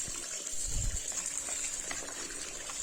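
Hot water mixed with cleaning liquid gushes into a tub for soaking mats, a steady soft pouring and splashing wash heard faintly and continuously with a brief low splash near the start.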